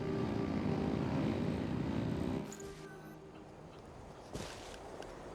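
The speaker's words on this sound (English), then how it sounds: "Rev the engines!" Engines rev in a Genshin Impact ride scene, a loud droning roar that cuts off abruptly, followed by quieter game ambience with a faint whoosh.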